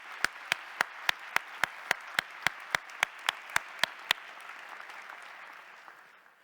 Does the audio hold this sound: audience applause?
yes